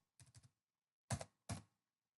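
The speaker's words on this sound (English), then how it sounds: "we're going to type in wiggle" Keys on a computer keyboard are pressed in a quiet room, a quick pair of taps, a pause, then two firmer clacks, near and clear, with no talking.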